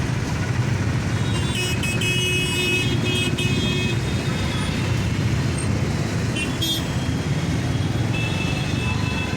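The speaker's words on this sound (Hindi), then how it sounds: "गाड़ी चालू कर दी है एंड इन बड़ी बड़ी गाड़ियों के पतली पतली गलियों में से चेतक को निकालते हुए हमें आगे बढ़ना है" A Chetak scooter rides through narrow lanes packed with big vehicles, amid a continuous wash of road traffic and a few short horn toots, with no talking.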